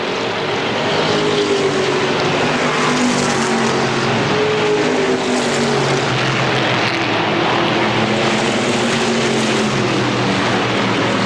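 Stock cars at Motordrome Speedway in 1992 roar continuously around the oval, a loud, steady drone of several engines with pitch shifts as the cars pass close by.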